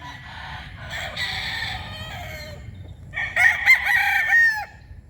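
Gamefowl stags crow loudly and close by, one long crow followed by a second louder one, with faint clucking and farmyard background in between.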